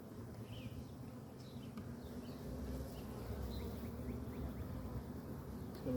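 Honeybees buzzing around brood frames pulled from a hive during an inspection, a soft continuous drone with a faint hum of wingbeats close by.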